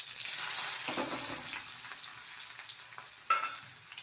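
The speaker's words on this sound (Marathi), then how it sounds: "तो कांदा ब्राऊन होईपर्यंत परतत राहूया" Onion and cumin sizzle in a hot pan as they are stirred, a dense close hiss with scraping of the spoon and a sharper clack near the end.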